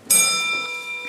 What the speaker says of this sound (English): The bell ends question period.